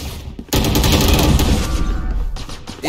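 Rapid gunfire in the tactical shooter Valorant, a dense burst of shots that starts abruptly and keeps up loud for over two seconds, close and continuous with no talk over it.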